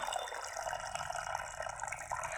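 Cold water poured from a height onto fava beans in a pot, a steady faint splashing and gurgling stream that runs continuously without a break.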